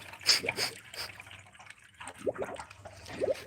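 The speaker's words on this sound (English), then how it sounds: "We're probably hearing the water, like, Going through the system." Faint gurgling and trickling of coolant moving through a Cadillac CTS-V engine on its first start, with soft irregular bubbling bursts against a quiet background.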